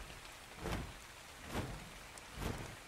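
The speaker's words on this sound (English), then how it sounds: "And of course it starts to rain." Rain falling in ARK: Survival Evolved, a steady soft hiss of rainfall with three brief louder bursts spaced about a second apart, quiet and without voices.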